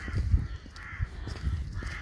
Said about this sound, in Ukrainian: Йду і так йду, ворони крякають. Страшенно воронів розвелося.